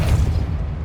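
Depulso force spell in Hogwarts Legacy, a short heavy low boom with a muffled burst that rolls off quickly.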